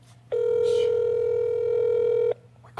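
A telephone call being placed: a sustained steady electronic tone lasts about two seconds, clear and loud, with a brief voice just before it.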